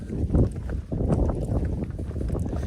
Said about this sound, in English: The wind is still blowing